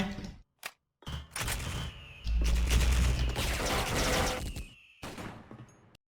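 Gunfire in a shooting video game: dense, loud bursts of rapid automatic fire that run almost continuously, broken by a few brief pauses near the start and end, with no talking over it.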